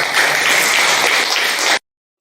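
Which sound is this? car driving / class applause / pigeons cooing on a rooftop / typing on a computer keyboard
class applause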